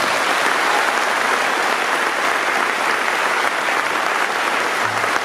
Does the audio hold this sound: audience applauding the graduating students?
yes